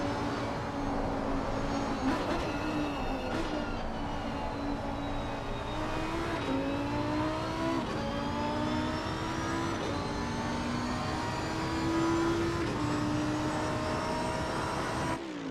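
A Lamborghini 5.2-litre V10 race car engine in a sim racing broadcast, droning continuously with rising and falling pitch through gear changes and acceleration, steady and loud from start to end.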